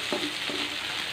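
Garlic and onion sizzle steadily in a hot pan, a continuous close frying hiss with a couple of soft stirring scrapes, no voices.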